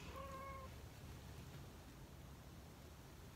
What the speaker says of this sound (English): The cat is right outside my door begging to be let in.